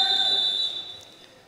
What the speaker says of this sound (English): As we have a whistle.